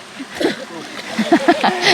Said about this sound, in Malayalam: നമുക്ക് കുപ്പിന്ന് കുറച്ച് വെള്ളം എടുക്കുവാന്നേ